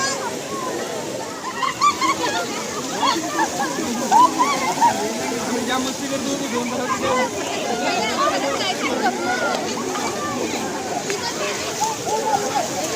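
Overflow water spills and rushes steadily at Kelwa dam near Virar, a continuous close splashing wash with scattered voices of people enjoying the water mixed into the flow.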